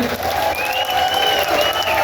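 Applause from an event audience at a vloggers' farewell gathering, a steady dense patter of many hands that keeps up at full level throughout, with some crowd noise mixed in.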